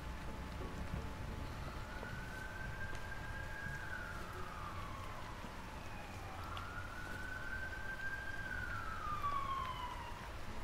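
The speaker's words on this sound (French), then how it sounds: "J'imagine que vous allez entendre l'ambulance passer." A wailing ambulance siren rises and falls in two long sweeps as it passes at a distance, faint over a steady low background rumble, with no talking.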